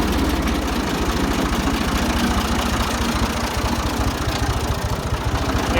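Ford 2000 tractor engine idling steadily after being shifted to neutral, a close, low, rhythmic chugging and knocking diesel rumble with constant pulsing and no voices.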